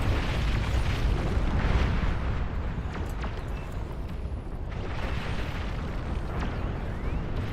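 Heavy explosions in the real-time strategy game Beyond All Reason, a dense, continuous roar of booms and rumbling blasts that stays loud throughout, with no voices.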